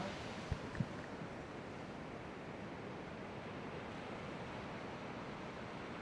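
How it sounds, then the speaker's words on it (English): Ocean surf rolls in a constant broadband wash near a pier, heard from a distance with some wind rumble and two faint early knocks, with no voices. "Take some videos of those waves."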